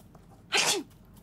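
A single loud sneeze from a character in the Murder in the Alps video game, one sharp burst lasting under half a second against a quiet background.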